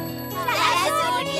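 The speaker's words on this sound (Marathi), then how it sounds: "शाळा सुटल्याची घंटी वाजली." A school bell rings at the end of the school day, a brief, bright metallic ding with a shimmering tinkle lasting about a second, close and clear.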